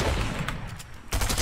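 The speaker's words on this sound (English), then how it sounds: "I'm being shot from 109" Short loud bursts of gunfire in the no-build mode of Fortnite, a dense volley at the start and another sharp burst near the end, close and alone without talk.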